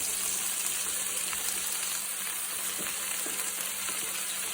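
Vegetables frying in a pan alongside browned Italian meatballs, a steady close crackling sizzle with faint stirring taps, no talk.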